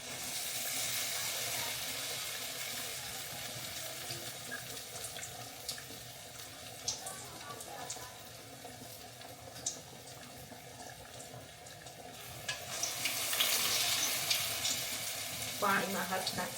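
Medu vada batter shaped with wet hands and dropped into hot oil, a continuous sizzle of frying mixed with splashing water, rising into a louder bubbling burst near the end.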